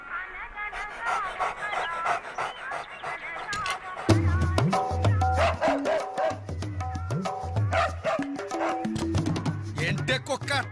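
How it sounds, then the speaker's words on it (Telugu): A dog in a Telugu comedy film scene yips and pants amid a busy soundtrack, with voices and music layered over the short, repeated dog sounds. "ఏంటే కుక్క అట్టా సొత్తున్నావు?"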